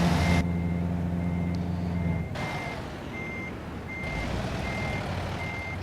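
A truck reversing in American Truck Simulator, its backup alarm sounding a steady series of evenly spaced electronic beeps over a low engine hum, clear and fairly close.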